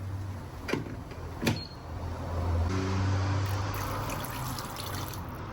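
A couple of sharp clinks, then water running steadily into a pot of Korean braised chicken, a continuous nearby pour with a low hum underneath.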